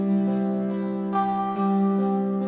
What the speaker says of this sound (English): Let's change the large room to spring reverb.